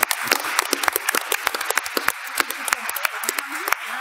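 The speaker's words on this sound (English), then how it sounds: "Give her a warm applause." An audience at an award ceremony claps in scattered, uneven bursts of individual hand claps. The sound is moderate and fairly close, with a voice briefly audible.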